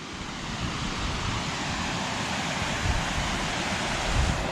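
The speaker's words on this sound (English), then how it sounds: "Nice little waterfall." A small waterfall on Snowgrass Creek along a mountain trail in Gifford Pinchot National Forest gives a steady, close, broadband rush of falling water that holds constant and unbroken throughout.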